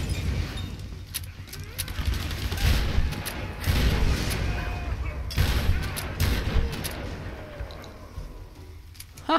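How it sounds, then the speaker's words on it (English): Shotgun blasts in the Tomb Raider video game ring out as several loud, spaced booms over game noise and background rumble, with brief speech-like sounds mixed in. "I love this shotgun."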